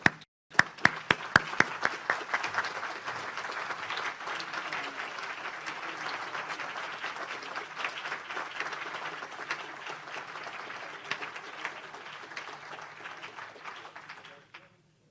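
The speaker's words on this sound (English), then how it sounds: "let's please stand and give them a round of applause and welcome them to our club" A room of Rotary club members at a year-end meeting stands and applauds new members: a few scattered claps swell into dense, sustained clapping that fades out near the end.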